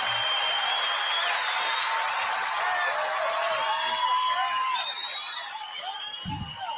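A studio audience at a radio duel show applauds and cheers, a dense, lively roar of clapping and shouts that thins toward the end, with a voice talking over it.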